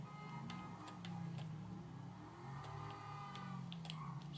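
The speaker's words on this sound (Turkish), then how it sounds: "Hem hızlı akıyor hem de çok güzel motor sesi var." Car engine in GTA V, a steady low hum with a faint whir running throughout at moderate level, with no speech over it.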